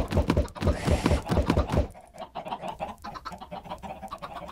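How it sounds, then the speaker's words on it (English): Minecraft chickens cluck in a rapid series of short, close calls. Softer thunks and scattered game sounds follow. "And I got these chickens all over the place here"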